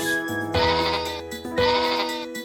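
Two loud, wavering bleats from lambs, close by, one after the other with a short pause between.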